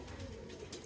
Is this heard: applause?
no